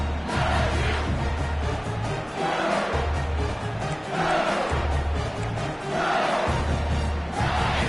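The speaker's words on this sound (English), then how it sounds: "for an entire game, they are on their feet, yelling, screaming" A college football stadium crowd yells and screams on its feet, a loud, dense roar that surges in repeated waves with a rhythmic low pounding underneath.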